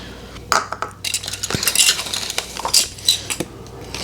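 Plastic measuring cups from a KitchenAid set clink and clatter together in a kitchen, a string of light, close knocks and rattles arriving in uneven bursts, with no voices.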